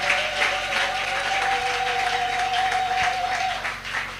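A church congregation applauding, a steady, loud wash of many hands clapping that holds for several seconds before thinning out near the end.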